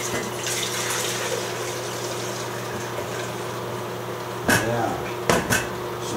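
Steady water pours continuously into a film developing tank, a broad rushing hiss, with a couple of sharp clanks near the end.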